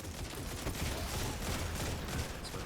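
Dense, continuous gunfire fills a firefight in the Destiny video game, a loud unbroken rattle of overlapping shots with no pauses.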